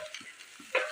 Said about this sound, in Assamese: 1 মিনিট সময় এইদৰে লৰাই ল'ব